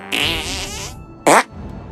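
A cartoonish Sneaky Squeaker fart attack from the South Park Stick of Truth video game: a drawn-out, buzzing, squeaky blast lasting most of a second, followed by a short, sharper burst after a brief pause.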